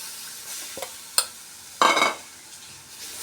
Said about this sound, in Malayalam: നല്ലോണം എണ്ണ കിടന്ന് മസാല മൊരിഞ്ഞ ശേഷം വാളംപുളി പിഴിഞ്ഞ് ഒഴിക്കാം